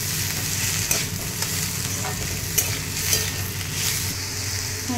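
Tomato and potato being stirred in a frying pan for a savory semolina dish, a steady close sizzle with soft scraping strokes of the spatula recurring every second or so, no voices.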